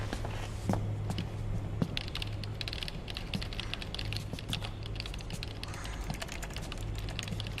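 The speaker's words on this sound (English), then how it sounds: "Using two keyboards at the same time." Rapid keystrokes clatter across computer keyboards in Metal Gear Solid 4, a steady busy typing patter at moderate distance with a low hum underneath and no talk.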